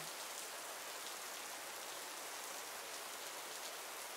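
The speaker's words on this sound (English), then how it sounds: "And all this rain. Just so rainy." Rain falling in the video game Minecraft, a steady, even hiss of rainfall continuing without a break, fairly soft and heard alone.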